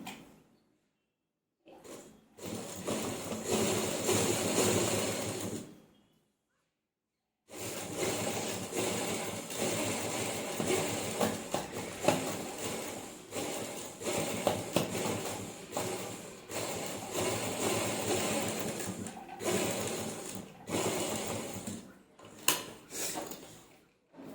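A sewing machine stitches a lined kameez in long running bursts, a steady close rattling whir with short pauses between seams and a few brief stops near the end.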